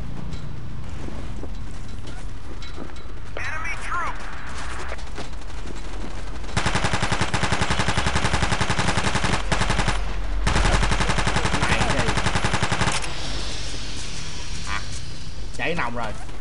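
Captured machine gun firing in Battlefield 2 during a 16 vs 16 match, long sustained bursts of rapid automatic fire close and loud, with other gunfire and game effects around it and a voice talking over parts.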